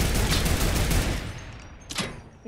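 Incoming gunfire in a video game hammers at the player as a dense barrage that thins out, then one more short burst follows before it fades.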